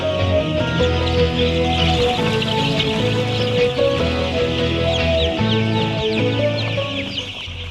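A flock of chickens clucks busily over fresh feed, many overlapping close cackles and murmurs forming a continuous, lively din throughout.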